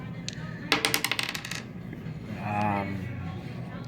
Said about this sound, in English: he will roll any one of these dice he wants.